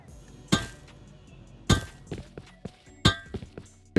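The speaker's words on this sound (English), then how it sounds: "Are you breaking the shotgun trap?" A shotgun trap being struck in the video game Rust: heavy, hollow thunks land in a slow, uneven rhythm, with three loud blows and a few lighter knocks between them, close and clear with no talking.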